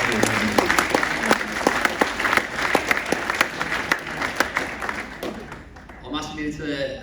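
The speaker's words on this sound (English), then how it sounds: "You deserve another round of applause for your terrific year." Steady applause from a crowd, many hands clapping densely for several seconds before fading out near the end.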